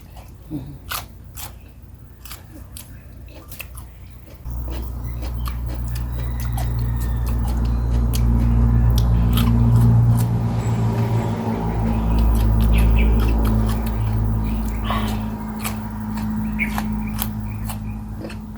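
Very crisp raw salad vegetables get crunched, with bites and chewing starting as sparse, sharp crackles and then giving way to a steady, close chewing crunch set against a low background hum.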